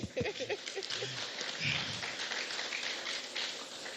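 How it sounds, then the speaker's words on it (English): A conference audience at the National Advertising Conference applauds the doctor with steady, moderately distant clapping, while a host's voice speaks over the start. "A big round of applause for the doctor, please."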